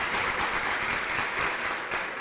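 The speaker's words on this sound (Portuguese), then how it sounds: "uma salva de palmas para o quarteto" An audience applauds a quartet at the opening plenary of an ecological restoration meeting for the Rio Doce basin. Steady, full clapping from a sizeable crowd fills the short stretch without letup.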